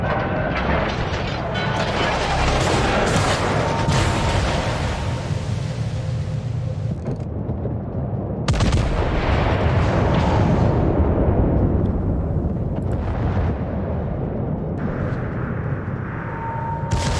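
World of Warships naval battle: continuous heavy gunfire and explosion rumble, with booming salvos rising at intervals over dense mechanical background noise and faint radio-style voice lines.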